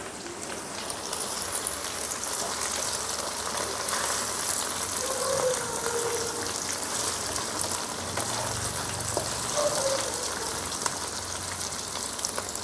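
Okra frying in a pan with peeled roasted peanuts, a continuous close sizzle and crackle like rain on a surface, with faint scraping now and then and no voices.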